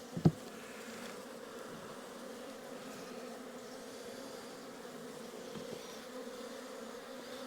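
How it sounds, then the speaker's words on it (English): Agitated honey bees buzz steadily around an open hive during an inspection in a poor spring, a continuous close insect drone with one brief knock near the start. "The bees look agitated, they're jumping around a lot."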